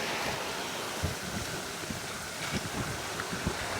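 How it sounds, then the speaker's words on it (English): Ocean waves washing against a sailboat out at sea, with gusty wind buffeting the microphone and occasional slaps of water against the hull. "The waves are gonna pick up because land's disappearing over there."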